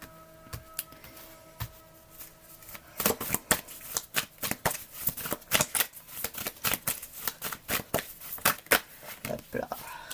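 Oracle cards are shuffled and handled close up, a soft riffling that gives way to a brisk run of crisp, rapid card flicks and slaps, fairly quiet throughout.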